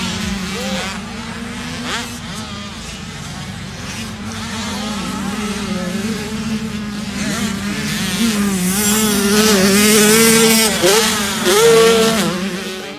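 Several 80cc dirt bikes ride a motocross track in Florida, their high-pitched two-stroke engines buzzing and rising and falling continuously, growing louder toward the middle as they pass nearby.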